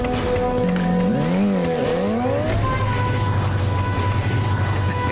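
A motorbike engine fires up and revs, its pitch sweeping up and down before settling into a steady rumble as it pulls away, loud and close under a busy film soundtrack.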